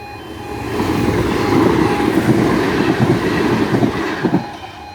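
Class 375 electric train passing Sevenscore level crossing in Kent, a steady loud rumble of wheels on rails with rhythmic clickety-clack building and holding close by throughout.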